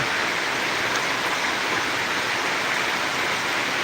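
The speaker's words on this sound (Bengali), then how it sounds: "মুসলধারে বৃষ্টি হচ্ছে তোমাদেরকে দেখাচ্ছি" Heavy night downpour heard from a balcony, a steady, dense roar of rain that fills the whole clip with no talking.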